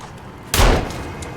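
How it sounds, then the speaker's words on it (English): Gunfire in the survival video game Sons of the Forest: a single loud, sharp shot bursts out and trails off into a rumbling decay, with no talking over it. "Oh shit, gunshots."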